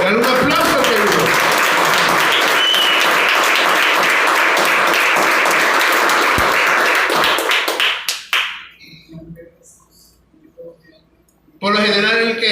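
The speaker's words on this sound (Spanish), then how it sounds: "Dale un aplauso, querido" A church congregation applauds in loud, dense clapping for about eight seconds, then the sound fades. A quiet stretch follows, and a voice starts speaking near the end.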